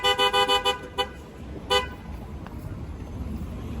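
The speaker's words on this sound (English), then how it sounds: "you're not supposed to honk like that" A car horn blares in a rapid series of short honks, followed by two more separate toots, then quiet traffic rumble in downtown Atlanta.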